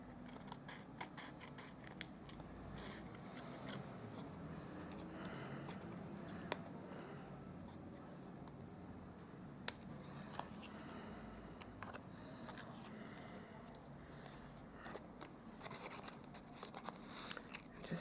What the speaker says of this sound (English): Just trim all of this off.